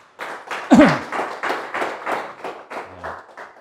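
An indoor audience at an organic fertilizer product event gives a short round of applause, a dozen or so distinct hand claps in a quick, even rhythm. The claps are close and clear, and a brief voice cuts in once.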